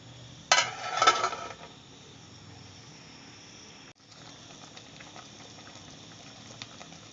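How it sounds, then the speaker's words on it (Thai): A pot of glass noodle curry with pork and moo yor simmers with a soft, steady bubbling patter, opening with a brief clatter of a utensil or lid, then a quiet continuous boil. "อ๋อเดือดแล้วเนาะค่ะ สุกแล้วทั้งเส้นทั้งหมูยอแล้วก็หมูเขากับ"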